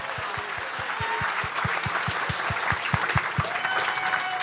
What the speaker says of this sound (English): can we have a huge round of applause for all the brilliant people here at Underground Arts in Philadelphia?